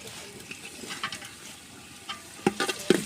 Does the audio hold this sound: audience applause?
no